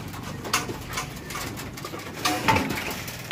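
Pigeons flying about outdoors in Tacloban coo softly over a rustling, breezy background, with a few faint soft calls scattered through the short stretch.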